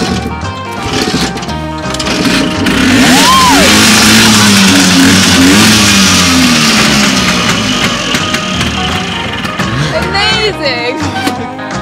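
A custom-built Buell X1 motorcycle engine running loud and close, a rough, sustained roar with revving swells throughout, with voices talking over it.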